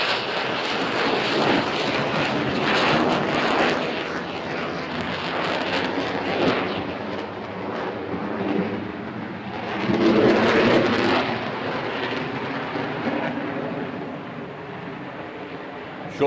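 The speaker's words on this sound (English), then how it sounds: "Slow pass, just hanging on the power, that raw power available to crack along the F-16" Loud, sustained roar of an F-16 fighter jet making a slow pass at the Farnborough International Airshow, high on power, swelling briefly near the end.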